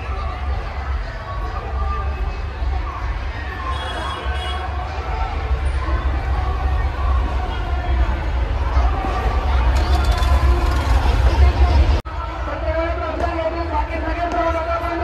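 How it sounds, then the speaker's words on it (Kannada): A large, dense crowd at a Bhim Jayanti DJ celebration in Pune, its continuous chatter and hubbub filling the air, with a brief break near the end. "ಕ್ರೌಡ್ ಭಾಳ ಬಂದೈತಿ ಈಗ"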